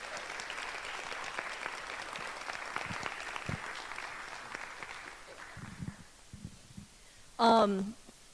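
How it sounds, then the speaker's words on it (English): An event crowd applauds the Asia board at the SBU ASIA 2025 gathering. Steady moderate clapping runs for about five seconds, thins out into a few scattered claps, and a single rising cheer rings out near the end. "a round of applause for the Asia board, please"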